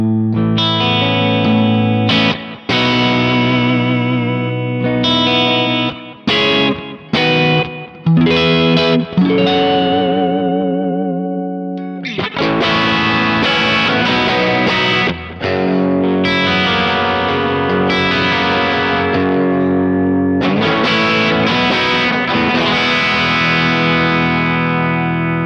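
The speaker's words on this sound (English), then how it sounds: "it's a transparent kind of style overdrive. It's just adding some soft clipping." Electric guitar through a Kemper soft shaper overdrive stomp adding soft clipping, loud riffs and sustained chords with short pauses, played alone.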